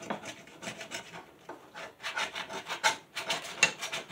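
Hand file rasping along a steel lawn mower blade in repeated uneven strokes, close and fairly loud, with brief pauses between passes.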